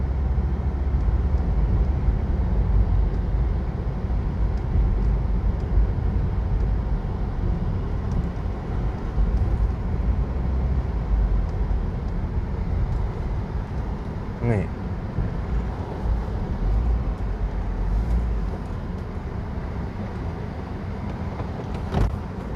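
A 2013 Suzuki Ertiga 1.4 GX seven-seater rolls along without braking, giving a steady, continuous engine and road drone heard from inside the cabin for the whole stretch.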